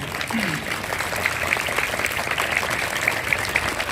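An audience applauds at an inauguration ceremony in Hyderabad, sustained dense clapping from a crowd that holds steady for several seconds, loud and close.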